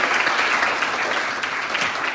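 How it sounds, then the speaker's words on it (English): An audience at a legal event claps in sustained, dense applause, steady and fairly loud throughout with no voices over it. "can we have another round of applause?"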